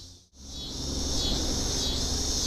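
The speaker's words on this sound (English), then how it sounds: "with a lot of cicadas" A steady, loud chorus of cicadas drones at the Huron Indian Cemetery in downtown Kansas City, Kansas, dipping briefly at the start and then holding a dense buzz with gentle swells; no one speaks.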